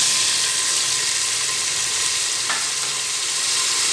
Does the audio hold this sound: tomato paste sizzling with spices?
yes